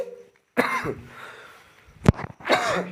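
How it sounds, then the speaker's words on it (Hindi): Two separate coughs, close and fairly loud, with a quieter throaty sound between them and a short pause before the first. "लग रहा है थोड़ी सी खांसी हो गई क्या हमें"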